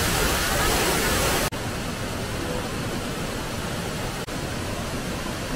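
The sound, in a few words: Shuiwanglong waterfall, Xiaoqikong, Guizhou, China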